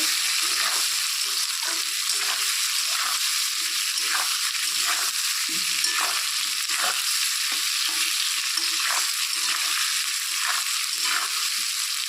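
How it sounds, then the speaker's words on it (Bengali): Potatoes fry in a pan of hot oil with a steady, dense sizzle, broken by frequent stirring that scrapes and clatters throughout; no one speaks. "আলুগুলো ভেজে নেব।"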